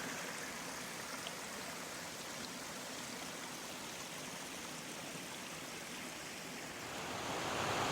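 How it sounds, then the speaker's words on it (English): Milk Creek in Oregon rushes along in a steady, broadband wash of flowing water, heard fairly softly from nearby and swelling slightly louder near the end, with no talking. "So this is Milk Creek,"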